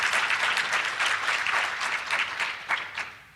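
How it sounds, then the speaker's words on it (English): An audience at an education panel claps in a round of applause, dense and lively at first, then thinning into scattered individual claps before fading out. "let's give them a round of applause for being here."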